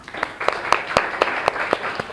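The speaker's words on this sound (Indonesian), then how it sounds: "Tepuk tangan semua." A classroom of children claps their hands together in a steady rhythm, about eight sharp, evenly spaced claps over a soft background of room noise.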